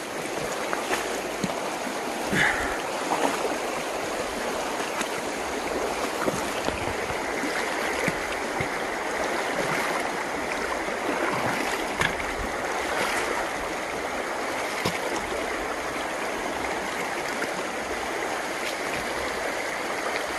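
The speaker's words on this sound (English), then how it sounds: "walking in the stream." A clear forest stream in George Washington National Forest rushes and gurgles continuously at close range, with occasional splashes from someone wading through the water.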